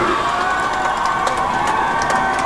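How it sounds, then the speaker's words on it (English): A loud football crowd at a varsity high school senior night game roars and cheers in a steady, sustained wall of noise, with scattered shouts rising above it throughout. "Folks, this crowd is getting loud."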